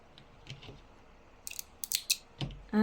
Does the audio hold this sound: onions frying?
no